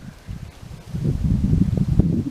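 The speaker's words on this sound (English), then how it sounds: "it's pretty windy" Low, gusty wind buffeting the microphone in an open field at a plowing match, building stronger after the first second and staying rough and rumbling.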